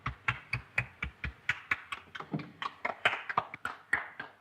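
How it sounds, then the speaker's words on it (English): Crisp hand claps from a small group in a quiet room, sharp and distinct, falling in a steady, unhurried rhythm of roughly four claps per second with nothing else beneath them. "Applaud."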